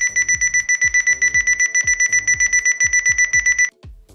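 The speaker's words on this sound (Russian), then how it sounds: "Он будет будить вас звуковым сигналом, пока вы не станете на коврик обеими ногами." An alarm mat that keeps sounding until both feet stand on it gives a loud, fast run of electronic beeps in steady pulses for several seconds, then stops abruptly.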